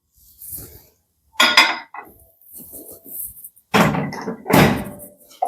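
Peanuts for dry roasting being loaded into a microwave oven: clattering handling of a dish, a thunk as the container goes in and the door shuts, with a few close knocks and rustles in between.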